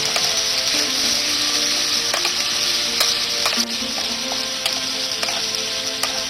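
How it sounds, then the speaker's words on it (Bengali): Figs (dumur) fry in oil in a pan, making a loud, continuous sizzle. Sharp clicks of stirring come through at irregular intervals, and no one speaks. "এটাকে ডুমুরটাকে একটু ভাজা ভাজা করে নিতে হবে।"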